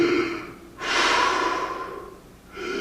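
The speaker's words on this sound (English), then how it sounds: "Oh, how about a little deep breathing?" Stage actors take a slow, deep breath, a long audible inhale-exhale rush that swells and fades, with softer breathing before and after it.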